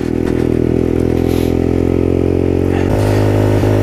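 Supermoto motorcycle on new tires riding offroad, its engine droning loudly and steadily throughout, with a brief rev and some clattering near the end.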